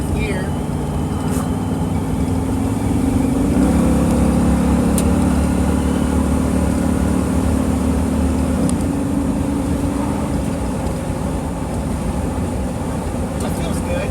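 GM 4L80E automatic transmission in a moving vehicle, steady road and engine drone with a smooth upshift into fourth gear partway through, a low continuous hum carrying on throughout.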